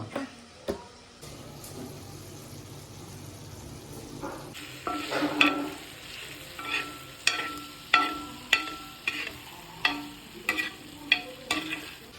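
Mutton is stir-fried on a flat tawa, seasoned with pepper at the end. A soft sizzle runs underneath a close, regular series of sharp spatula scrapes and clacks against the pan, roughly one every second, with no voices.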